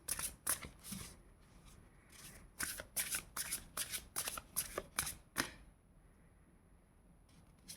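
Tarot cards shuffled by hand in a rapid run of close, crisp riffling flicks for about five seconds, then a quiet pause, with no speech.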